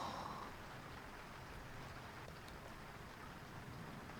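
Steady rain hisses over a dark hallway in the Corpse Party horror game on 3DS, a continuous wash of falling water with faint distant rumbles beneath, no voices.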